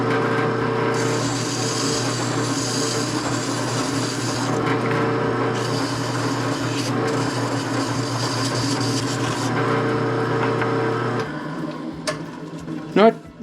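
A small sanding drum grinds down a ridge left by misaligned hole saws on a grease gun part, a steady whirring abrasion that runs loud and continuous before stopping with a few clunks at the end.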